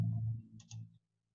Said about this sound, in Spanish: Vamos a hacer doble clic